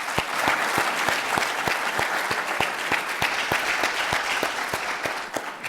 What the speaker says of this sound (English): please join me in a round of applause for our speakers